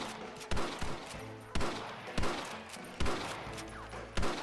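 Gunfire in the Red Dead Redemption video game: sharp, loud shots ring out about once a second in a regular rhythm, each with a short echoing tail, over a low background rumble and no talking.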